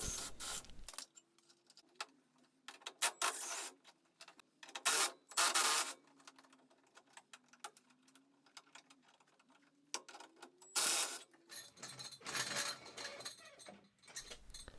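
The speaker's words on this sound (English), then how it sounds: "they all come undone quite easily with the impact gun" Impact gun spinning bolts out of a Land Rover body with a spanner holding the nuts behind: irregular loud bursts of whirring and rattling with clinks and gaps between, close by.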